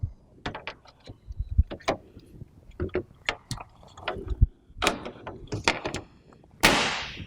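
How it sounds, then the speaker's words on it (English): Door panel of a GeneralAire electronic air cleaner being refitted, a close series of sharp plastic and metal clicks, taps and knocks in an irregular rhythm, ending with a brief scraping slide. "let's put the door back on."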